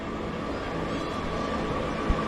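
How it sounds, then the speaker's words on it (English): Train idling at Preston railway station, a steady mechanical hum with a faint tonal whine and a single soft thump near the end, close and continuous, with no talking. "This train is formed of 4 coaches."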